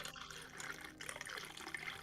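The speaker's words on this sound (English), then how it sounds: "Water sounds." Running water in the video game Starbase, a steady rushing, splashing flow like a tap filling a basin, continuous and moderately faint throughout.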